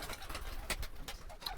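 A weakened pigeon coos softly in quiet, low murmurs, with a few sharp clicks and knocks scattered through the faint background.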